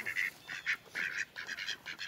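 Ducks quack in a quick series of nasal calls, several bursts close together, fairly faint against a quiet outdoor background.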